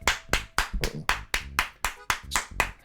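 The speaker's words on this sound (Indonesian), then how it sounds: "Tepuk tangan dong." Ten or so sharp hand claps land in an even, steady rhythm, each one distinct and fairly close, with no other sound between them.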